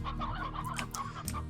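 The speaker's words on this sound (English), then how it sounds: "If we come over to the chicken coop here, we can see these chickens being weirdos." Chickens clucking inside a chicken coop in the video game Slime Rancher, a steady stream of close, overlapping clucks and chatter with no talking.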